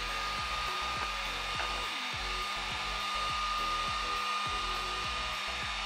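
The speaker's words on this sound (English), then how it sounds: "We're going to take our heat gun, warm it up, make sure not to burn yourself." A heat gun warms a motorcycle reflector on a BMW S1000RR, giving a steady, close airy blower roar with a constant whine, varying slightly in pitch as it is moved, with no talking.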